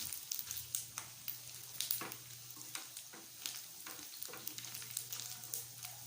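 Adobo sa asin frying in a pan, a continuous low sizzle broken by repeated scraping stirs that come at an irregular pace, moderately quiet, with no talk.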